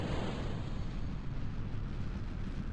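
A rocket launches in the video game Kerbal Space Program, giving off a dense, steady roar of engine rumble and noise, loud and continuous throughout with no talk.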